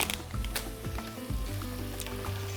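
Ingredients frying in a pan for a soup, giving off a steady sizzle mixed with faint tonal hum and a few soft clicks.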